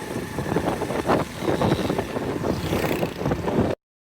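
A motorcycle rides along with a steady engine rumble mixed with wind buffeting, fairly loud, before cutting off abruptly.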